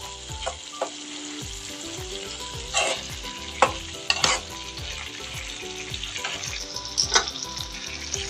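Chickpea curry cooks in a pan, a steady sizzling bubble broken by repeated close scrapes and clinks of a spoon stirring through it, no voices.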